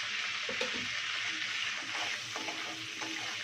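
Whole spices frying in hot oil and ghee: black and green cardamom, cloves, cinnamon, bay leaf and dry red chili. A steady, close sizzle runs throughout with a few soft clinks of stirring.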